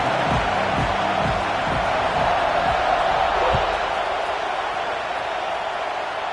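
Video game stadium crowd from EA Sports College Football, a steady loud roar of cheering fans at an Oregon Ducks game, continuous and dense throughout with a few low thumps early on.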